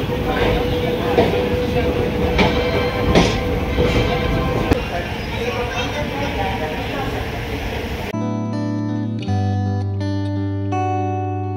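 An Indian night train pulls out of platform 3 at Anand Vihar railway station, bound for Kotdwar, with a steady rolling rumble and rattling wagons for about eight seconds before the sound cuts to music.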